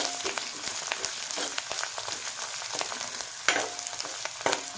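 Ground masala spice mix for Kolhapuri misal sautéing in a hot pan with oil, giving a steady close crackling sizzle with occasional sharper pops and stirring clicks, with no talking.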